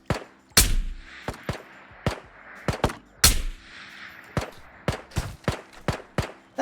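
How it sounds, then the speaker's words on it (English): Repeated gunshots from another player in the VR shooter Ghosts of Tabor crack out in an irregular series, a few heavy close blasts among sharper lighter reports, with no talk over them. "That other guy shooting us now?"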